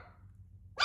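A single sharp bark from a young Merle doodle puppy bursts in at the very end, close and loud, after a moment of near silence.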